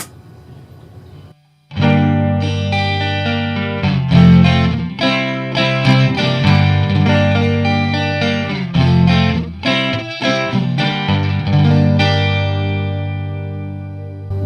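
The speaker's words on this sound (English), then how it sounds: "Here's the doubler, which is the delay." A distorted electric guitar plays chords and riffs through a Line 6 Spider V 240HC amp head's doubler delay effect, a slightly delayed layer that thickens the sound, loud and close throughout.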